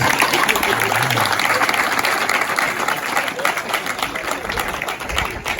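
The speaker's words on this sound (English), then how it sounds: "Clap for your head teachers." A crowd of head teachers and guests at a school donation event applauds loudly and continuously, a thick, sustained rattle of many hands clapping close by with a faint murmur of voices mixed in.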